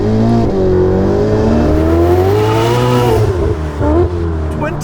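A Novitec-tuned Ferrari 488 Pista with a twin-turbo V8 revs loudly and close by, its engine note rising and falling in a continuous, strongly harmonic drone throughout.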